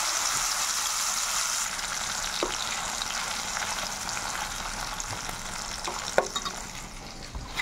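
Tomatoes and crushed garlic fry in hot oil for a tomato pickle, giving a loud, continuous sizzle broken by a few sharp clicks and scrapes of stirring near the end.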